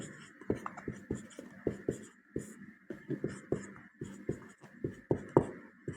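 Chalk or marker writing on a board during a math lesson, a rapid series of close scratchy taps and strokes in irregular bursts, with no talking over them.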